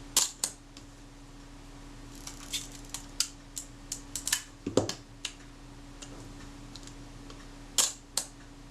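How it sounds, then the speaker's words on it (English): Faint mechanical clicks and ticks come from the sluggish shutter release of a Retina IIc camera, with scattered sharp snaps over a quiet electrical hum and no talk. "That shutter release is really sluggish coming back up."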